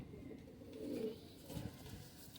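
Faint, low cooing of Sialkoti breed pigeons kept at home, a soft murmuring coo heard briefly and quietly.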